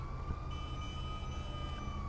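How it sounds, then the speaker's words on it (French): Police sirens wail faintly in the distance within the GTA 5 video game, a steady high tone that sits low in the mix over a constant background hum, with no one speaking. "Ah, j'entends déjà des sirènes"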